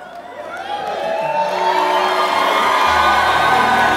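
A church congregation cheering, whooping and shouting, a loud close crowd roar that builds and holds steady to the end.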